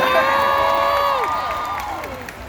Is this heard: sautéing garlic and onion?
no